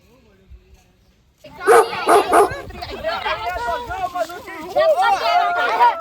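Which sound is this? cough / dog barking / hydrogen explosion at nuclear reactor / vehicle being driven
dog barking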